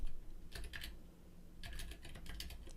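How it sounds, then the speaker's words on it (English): Quick, light keystrokes on a computer keyboard come in two short clusters of clicks over a faint room hiss, close by and without talking. "up the top in the address bar, I'm going to type in"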